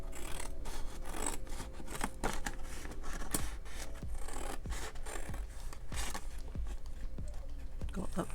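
Scissors snip through scored cardstock while a paper gift box purse is trimmed, making a run of quick, close crisp cuts and rustles at a low, steady level.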